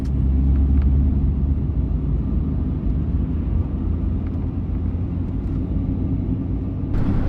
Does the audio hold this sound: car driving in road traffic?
yes